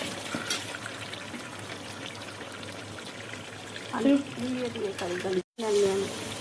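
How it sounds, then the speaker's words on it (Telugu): Hot water pours steadily into chicken curry with a soft trickling splash, then a person speaks briefly over it, with a short silent gap near the end. "తగినంత నీళ్ళు పోసుకుంటే సరిపోతుంది."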